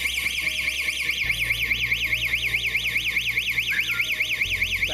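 A 688AN-2G car alarm siren wails in a rapid, steady warble, loud and close, sounding continuously without any talk.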